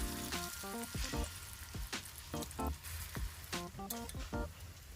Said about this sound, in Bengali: এবার কিন্তু আমি বাকিগুলো বড়ার আকারে ভেজে নেবো